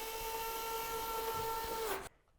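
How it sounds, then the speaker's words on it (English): A screwdriver, seemingly powered, drives lid screws into the housing of a FireBot unit mounted on microwave brackets, giving a steady, close whine for about two seconds before it cuts off abruptly. "use your screwdriver to put the lid screws into the housing and lightly secure them"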